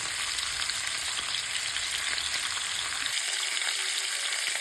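Oxtails browning in a frying pan give a steady, loud broadband sizzle that runs the whole way with no talking, the low rumble dropping away near the end while the hiss continues.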